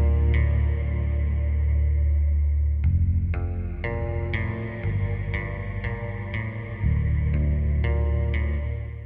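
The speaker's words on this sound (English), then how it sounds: "I started this track out with the free Labs bass guitar" Spitfire Labs free bass guitar sample instrument playing a melodic line, plucked notes with a steady rhythm and a shift in the low part partway through, loud and close, heavily colored with effects, no talking.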